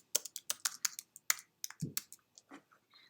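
Keys clack on a computer keyboard in quick uneven bursts of crisp, close clicks with short pauses between them and no voices.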